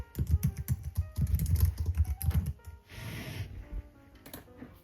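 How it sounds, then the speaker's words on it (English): Rapid, uneven clatter of keys on a computer keyboard as text is typed into a box, close and distinct, with a brief hiss and a few more keystrokes near the end. "and type my text."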